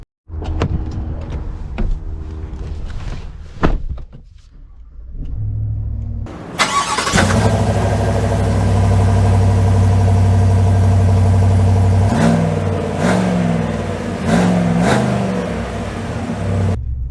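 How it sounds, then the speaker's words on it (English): A GMC Denali pickup truck engine cranks and catches with a loud start, then settles into a steady running rumble as the truck drives off, with a few brief thumps near the end. "setting off in the GMC Denali"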